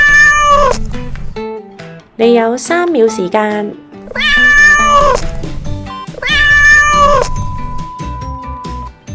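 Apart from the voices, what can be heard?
cat meowing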